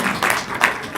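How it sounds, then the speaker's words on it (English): Audience applause at a horror film screening Q&A, a steady wash of many hands clapping that swells in bursts, moderately loud and fairly close, with no voices over it. "You can applaud for that."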